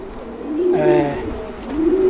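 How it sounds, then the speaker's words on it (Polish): A pigeon gives a clear, close cooing call, a soft rolling warble that rises and falls, with a second coo starting at the end. "To też jest właśnie gołąbek."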